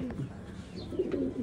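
A young pigeon chick and other pigeons give soft, low coos close by, brief and quiet against light background noise.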